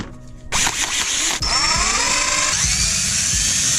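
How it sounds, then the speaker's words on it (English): A power drill spins up loudly close by, whining at high speed with its pitch shifting as it drills out holes on a large 3D printer build, running steadily without pause. "I gotta kinda drill out these holes"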